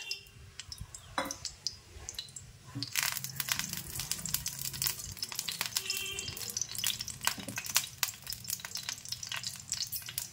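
Chopped onions dropped into hot white oil in a frying pan hiss and crackle, starting quietly then bursting into a loud, busy sizzle with sharp pops close by.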